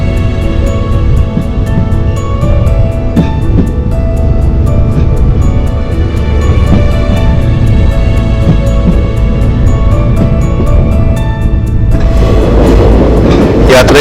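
A train on the Punalur–Thenkasi line past Thenmala station: a loud, steady rumble of wheels on rails with a rhythmic clatter heard from on board. Near the end the roar rises and turns hissier.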